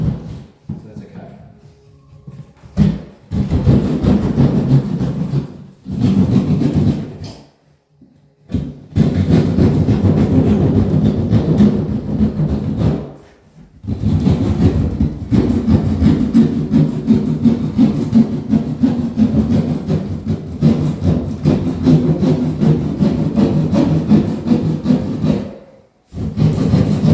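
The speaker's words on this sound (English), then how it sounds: "I've just cut to the outside of the line because I want to make sure that the plaster sheet fits straight" A hand saw cuts through an old plaster sheet along a marked line during a wall repair, producing loud rasping strokes in long runs broken by brief pauses, with someone talking in between.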